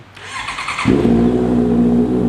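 A 2019 Honda CBR650R fitted with an aftermarket exhaust starts up with a starter whir, then settles into a loud, steady, close-up idle with a deep rumbling tone.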